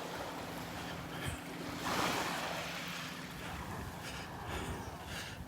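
Ocean surf rolls onto the beach at Delnor-Wiggins, a steady broad wash of breaking waves with a swell of louder surge midway, accompanied by wind rumble on the microphone and no speech.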